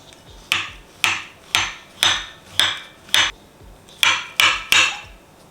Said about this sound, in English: So then we'll just cut a banana in half lengthwise